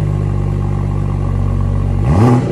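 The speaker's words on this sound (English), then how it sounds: "Got a nice purr from the engine." A BMW 440i M Sport's six-cylinder engine idles with a steady, smooth low hum close by, then gives a brief rising rev near the end.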